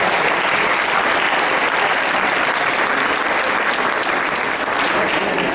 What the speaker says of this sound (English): Please give all our gurus another round of applause.